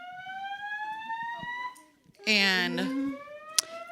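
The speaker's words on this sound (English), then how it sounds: "That is the fire alarm." A building fire alarm sounds as a loud rising electronic tone, then breaks into a harsher, buzzing pulsed blare, with a person's voice faintly under it.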